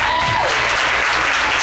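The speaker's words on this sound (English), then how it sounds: "Come on, give a round of applause." An audience at a youth revival service claps in a dense, continuous wash of applause that fills the short moment, with a brief tonal sweep near the start and no clear speech.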